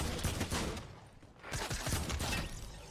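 Fortnite gunfire: dense, continuous shooting, with a short lull midway before the firing resumes.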